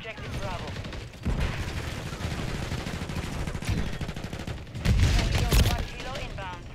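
KATT-AMR sniper rifle fitted with the JAK Salvo firing in a video game, heavy rapid booming bursts with clattering mechanics and a louder cluster of shots near the end, heard over a talking voice.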